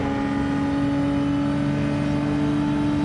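Race car engine in Gran Turismo 7 at Bathurst, slipstreaming a Mazda on track: a steady, loud sustained drone with strong tonal harmonics, holding pitch throughout with no voices.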